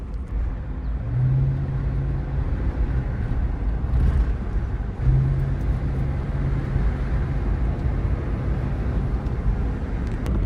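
A Mercedes-Benz with a V8 under the hood driving through corners, a steady loud engine and road drone heard from inside, the low hum swelling briefly twice, with no talking.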